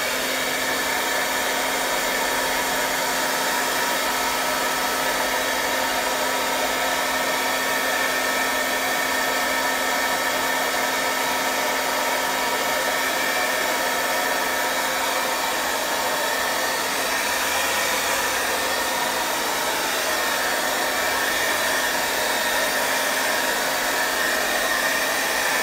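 A hair dryer blows steadily on an abstract painting, a loud continuous whirring hiss with a low hum that runs unbroken throughout with no talk.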